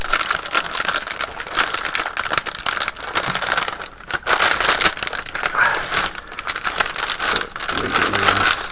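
A plastic bag from a Zvezda 1/35 scale Sherman tank model kit crinkles and crackles loudly and continuously up close as it is handled, with brief pauses between bursts of rustling.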